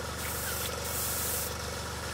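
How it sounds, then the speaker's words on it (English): A steady, close hiss of a Sparmax Max-3 airbrush spraying air and liquid into a cleaning pot runs throughout, with a faint mechanical ticking underneath and no talking. "you empty the contents by spraying it out into the pot"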